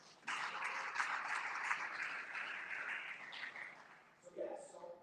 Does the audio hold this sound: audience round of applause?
yes